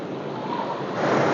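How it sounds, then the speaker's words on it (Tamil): Sea waves wash around a rocky hill on the Mullaitivu coast, a broad steady surf roar that swells slightly toward the end, mixed with wind buffeting the microphone. "இங்கே இந்த மலையை சுற்றி இந்த கடல் அமைஞ்சிருக்கிறது"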